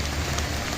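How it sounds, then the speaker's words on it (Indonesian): Heavy rain pours down at a campsite, a dense, steady hiss of drops on surfaces with no pauses and no voices over it. "Hujannya lumayan."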